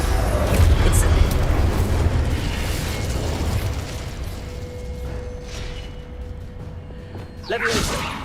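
Confringo blasting spell in Hogwarts Legacy, a heavy rumbling explosion that swells loud at the start and fades into a long roar, followed by a sharp whooshing burst near the end.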